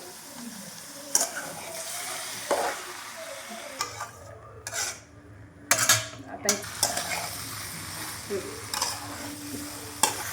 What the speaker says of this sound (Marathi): आता छान असं परतळून घेणार आहे